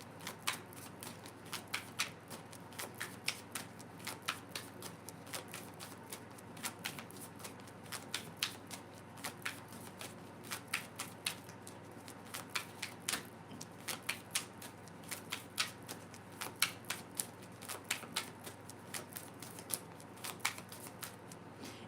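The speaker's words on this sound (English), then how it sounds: "I'm going to keep shuffling" Tarot cards are shuffled continuously up close, a steady riffling patter of quick crisp flicks with no talking.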